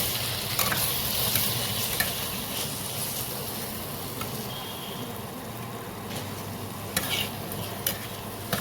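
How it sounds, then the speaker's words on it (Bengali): Chopped tomato fries and sizzles in hot oil in a pan while being stirred, a steady loud crackle with occasional scraping bursts of the utensil, heard alone. "তেল ছেড়ে দিয়েছে এবার আমি টমেটোটা দিয়ে দেবো"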